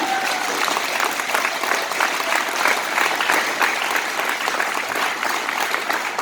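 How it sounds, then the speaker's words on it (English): A political rally crowd in New England applauds steadily, dense clapping and cheering filling the space at a constant loud level from start to finish, with no voice over it. "That means you applaud"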